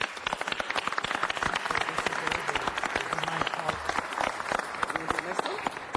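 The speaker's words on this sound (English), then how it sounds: "I'd like for you to all join us in giving them applause" A city council meeting audience applauds a university, a moderate room clapping with uneven individual claps, heard close and mixed with some voices.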